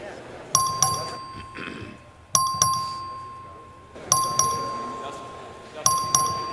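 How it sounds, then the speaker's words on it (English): A voting bell in the Texas House chamber rings in four sharp repeated bursts, each strike ringing out and fading before the next, with faint room noise between. "The clerk will ring the bell."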